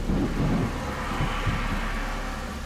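Heavy monsoon rain in Singapore pours steadily with a low rumbling of thunder underneath, a dense continuous hiss and roar, with no voices.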